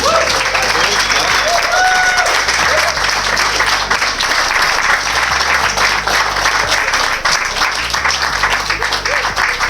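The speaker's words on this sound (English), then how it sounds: "Round of applause." A live podcast audience gives a loud, sustained round of applause, dense clapping filling the whole stretch with some crowd noise mixed in.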